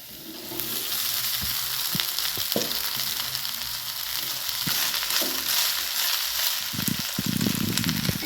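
Leftover cooked rice stirred and fried in a pan for khichdi, a steady hiss of sizzling under scraping spoon strokes and occasional clinks, continuous and close with no talking.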